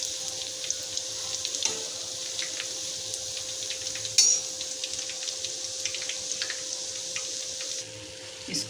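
Bhalle fritters frying in hot oil make a steady, moderate bubbling sizzle with a faint hum, a sharp clink midway and occasional stirring.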